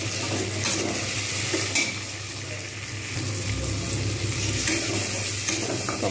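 Tomatoes added to frying onions in a pan for an egg omelette curry, giving a steady broadband sizzle with stirring scrapes throughout, fairly close and continuous, no talking.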